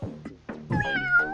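A fat cartoon cat in the video game Tasty Planet gives a few short, close meows, two quick chirps followed by a longer, drawn-out meow, with no talk over them.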